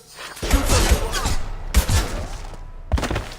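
Bursts of gunfire and heavy thuds from a firefight in the video game Mass Effect 2, loud rapid volleys broken by short gaps, with brief spoken lines mixed in.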